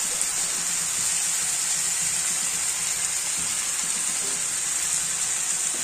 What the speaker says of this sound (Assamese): শাকখিনি ভাজি ভাজি লাহেকৈ হৈ আহিছে, তেল বিৰিঙিব ধৰিছে।